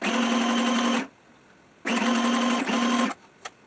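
A sewing machine stitching a medium zigzag runs in two loud, steady whirring bursts separated by a pause, with a brief click at the end.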